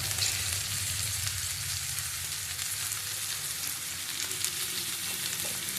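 Food sizzles in hot oil in a pan while fish pulusu is cooked, a steady, close, fairly quiet hiss of frying that runs evenly throughout with no talking.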